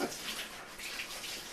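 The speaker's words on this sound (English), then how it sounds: "Mom, will you turn that water off?" Tap water runs steadily in a home, a continuous hissing splash that fills the space, moderately close and with no talk over it.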